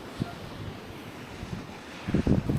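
Strong seaside wind buffets the microphone at the Mayan ruins of Tulum, a steady low rumble with gusts that swell louder near the end, while a person speaks quietly beneath it.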